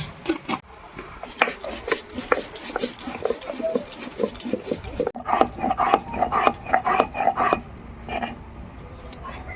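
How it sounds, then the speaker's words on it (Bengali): Dried red chillies and cumin crushed on a stone grinding slab, giving repeated rough rasping strokes in a steady back-and-forth rhythm, close and fairly loud, with no talk. "শুকনো লঙ্কা আর জিরে বেটে নেব"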